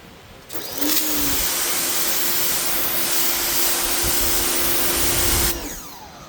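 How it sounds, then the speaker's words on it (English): A budget PATOOLIO pressure washer sprays water in one steady, loud hissing burst lasting about five seconds, with a motor hum underneath, then cuts off. "Okay, so pressure is good. Flow seems decent enough."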